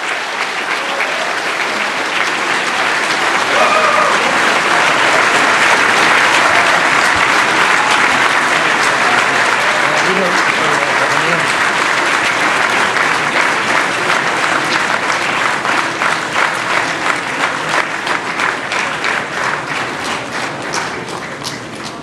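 Sustained, loud crowd applause fills the hall for the signing of the 2012 Framework Agreement between the government and MILF panels, steady at first and then breaking into distinct rhythmic claps toward the end.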